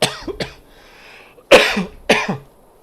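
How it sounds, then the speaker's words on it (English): Several sharp coughs, a quick pair followed after a pause by two more, close and loud with quiet gaps between, during a Cyberpunk 2077 roleplay session. "Still got a bit like cough. Excuse me."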